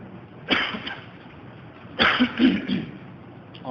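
Two short, sharp throat-clearing coughs from a pastor during a church sermon, about a second and a half apart, close and fairly loud, with a quieter follow-up after the second.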